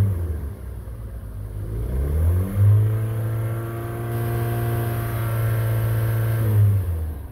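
A 2013 Hyundai Elantra engine revs up to about 3000 RPM, holds there and climbs again, then drops back to idle, its steady rising and falling hum recorded close from outside the car.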